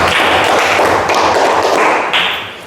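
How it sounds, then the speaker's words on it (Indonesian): Students in a classroom clap together, a loud, dense burst of hand claps and taps that holds steady and then fades at the end. "Tepuk tangan untuk kita semua."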